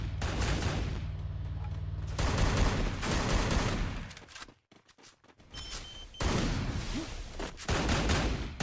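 Sustained bursts of automatic gunfire from a battle royale video game, loud and close, come in several long volleys separated by brief quiet gaps, with no talk over them.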